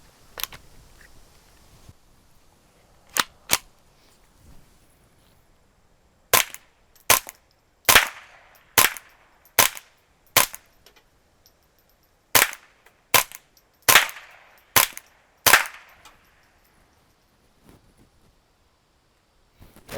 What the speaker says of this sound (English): Okay, so I put a suppressor on here.